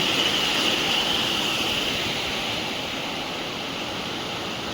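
Water flows in a village stream in Chhattisgarh, a steady broadband rush that stays close and even throughout, with no talking.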